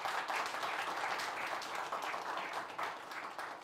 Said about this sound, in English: we need to give a round of applause for that IT team